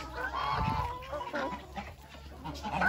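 Black guinea fowl cluck and chatter close by in a farmyard, a steady stream of overlapping calls with a low thump or two underneath and no talking.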